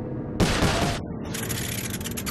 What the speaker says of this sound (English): I need to shoot all those locks at the same time.